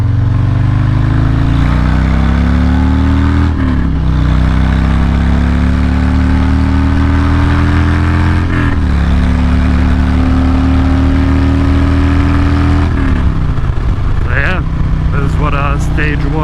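A Harley-Davidson Glide with a Stage 1 114 M8 V-twin revs smoothly in repeated climbing pulls. The engine rises to the top end, drops back, then revs again, staying loud and close throughout.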